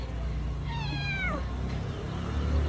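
A house cat that has just given birth to kittens meows clearly in one drawn-out, falling call, close by against a steady background hum, with no talking.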